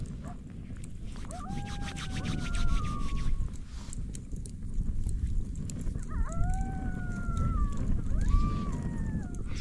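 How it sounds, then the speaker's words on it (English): Wild coyotes howl and yip at night around a solo campsite, their rising and falling calls repeating at a middle distance over a low, rumbling background. "there's coyotes howling all over around us"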